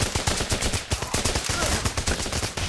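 Rapid bursts of AK rifle fire in the video game Running with Rifles, loud, close and continuous across the whole moment, with no talking over it.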